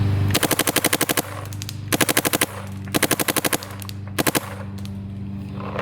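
A paintball marker fed by a Virtue Spire 4 hopper firing at 12.5 balls per second, four rapid bursts of evenly spaced sharp pops with short gaps between, loud and close.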